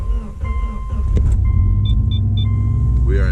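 Subaru car engine cranking and firing up from inside the cabin, a steady loud low rumble building and settling into idle, with a few short electronic chimes partway through.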